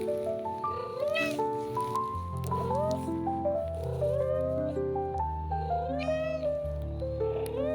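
A pet cat meows repeatedly, drawn-out rising and falling cries close to the microphone, while background music plays underneath.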